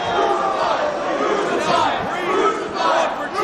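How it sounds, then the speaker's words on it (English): Wrestling crowd at a hot live event roaring and chanting together, a dense rhythmic mass of voices rising and falling in waves. "Fans break out into a crucify chant."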